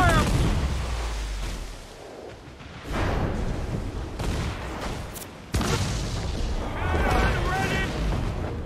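Sailing-ship cannons fire in a naval battle in Assassin's Creed IV Black Flag, with heavy booms and rolling blasts layered over a shouting crew and battle noise, loud and dense from start to finish.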